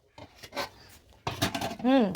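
Metal cooking pot of rice being covered with its lid at a home meal, a few short clanking and scraping knocks of metal on metal, close and clear, with a voice among them.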